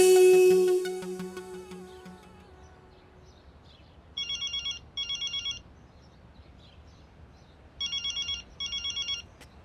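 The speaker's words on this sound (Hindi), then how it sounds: "ए जी, देखिए फोन आ रहा है।" A telephone rings indoors in a home: two pairs of trilling rings, repeated after a short gap, follow a fading burst of music at the start.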